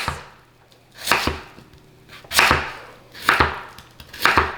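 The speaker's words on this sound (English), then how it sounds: "I usually cut these in half, lengthwise, and then I slice these into about 1/4 to 1/2 inch slices" A knife slices through radish on a cutting board in four firm, evenly spaced chops, each a crisp crunch ending in a knock on the board, recorded close with no voices.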